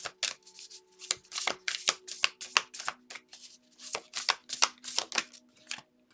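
Oracle cards being shuffled and drawn from a deck, close and crisp, with a run of quick papery flicks and riffles in uneven bursts over a faint steady hum.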